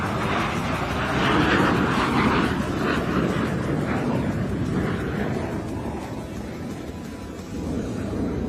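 A plane flying a low pass at an air show at Joint Base Andrews with wheels and flaps down, giving a loud, steady broadband engine roar that swells and then eases slightly, with no clear voices.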